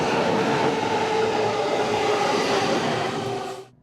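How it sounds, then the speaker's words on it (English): Japanese double-decker train bound for Tsuchiura Station in Ibaraki Prefecture, a steady loud rumble of wheels and running noise heard from on board, continuous until it cuts off abruptly. "Now I'm taking this train that heads to Tsuchiura Station, which is in Ibaraki Prefecture."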